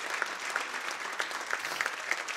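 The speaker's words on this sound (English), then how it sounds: "Oh, come on, clap." A church congregation claps together during praise, a steady, moderately soft wash of clapping with a few sharper hand claps standing out.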